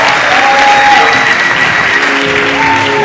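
A school audience gives the team a round of applause: dense, loud clapping from a sizable crowd, continuous from start to finish with a few voices rising above it.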